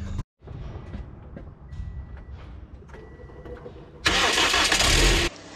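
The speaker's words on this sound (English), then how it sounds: "car will start nice and beautifully" A 2010 Toyota Corolla engine cranks and catches after a fuel pump replacement, with a brief low rumble, then a loud burst of starter whir and revving near the end, close and fairly loud.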